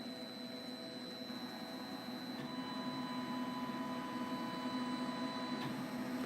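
A 3D printer runs steadily in a workshop where support brackets for a 1984 Cutlass Supreme chassis are being made, giving a continuous motor hum with a high whine, fairly quiet and even throughout, with no talk.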